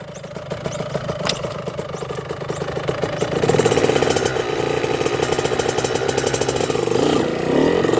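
Motorcycle engine ridden by a 12-year-old learner pulling away in first gear, loud and close, with a rough idle rising into sustained revving and a busy rattling throttle note throughout.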